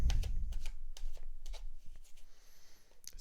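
Playing cards shuffled for a reading: a series of quick riffling, flicking bursts in close succession, near and fairly quiet, tapering toward the end.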